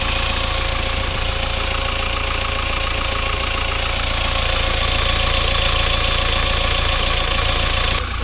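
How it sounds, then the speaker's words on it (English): A 2018 Mahindra Thar CRDe 4x4 hardtop's diesel engine idles steadily and close by, a continuous knocking rumble with a slight rise near the end and no talking. "Right now you can just have a look at the engine sound."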